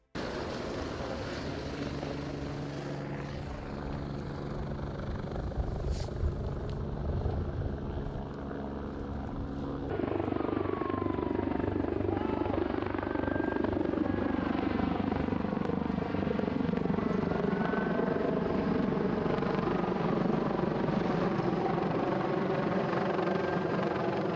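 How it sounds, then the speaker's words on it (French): A helicopter flies overhead with a steady rotor drone, growing louder partway through, blending with a broad wash like wind or surf; no talking. "Ils ont renvoyé un deuxième hélico."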